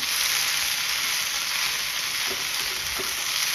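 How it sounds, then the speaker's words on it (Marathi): Chilli paneer sautés with spring onion greens in a hot pan, giving a loud, steady sizzle up close. Two soft stirring knocks sound near the end, with no talk. "कांद्याची पात घालून असं थोडं परतवून घेणार आहे."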